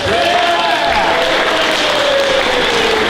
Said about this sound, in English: So give everyone a round of applause.